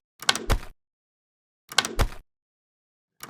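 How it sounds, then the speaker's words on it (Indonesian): A locked door in the video game The Meet rattles without opening, two short clattering bursts of handle and latch about 1.5 seconds apart, with a third starting at the end, each loud and close against silence. "pintu akan tertutup dan tidak terbuka"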